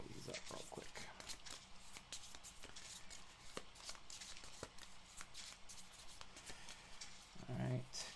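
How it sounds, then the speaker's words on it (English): A deck of cards is shuffled by hand during a tabletop game of 7th Continent, giving repeated riffling flutters and soft taps close by, with quiet talk in the background. "Let me just shuffle these up real quick"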